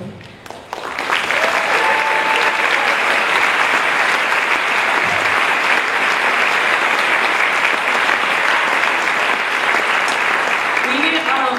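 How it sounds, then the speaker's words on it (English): A crowd bursts into loud, steady applause for the parents, who have been asked to stand, and the clapping holds at full strength throughout with cheers mixed in. "can we just give them a round of applause for everything that they do?"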